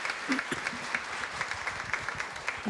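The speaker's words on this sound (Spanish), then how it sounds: "Un aplauso por favor para todos" A panel audience at an inclusive employment event gives a round of applause, fairly quiet and somewhat distant, with uneven individual claps standing out from the steady patter.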